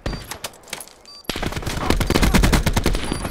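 Gunfire in a video game gun battle: a few scattered shots, then a sudden burst of sustained rapid automatic fire, loud and dense, with no talk.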